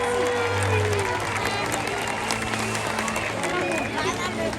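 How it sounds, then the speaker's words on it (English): An audience at the SeaWorld San Diego orca show applauds in a large outdoor stadium, broad clapping and crowd hubbub mixed with a steady background roar and some chatter. "Let's give him another round of applause, everyone."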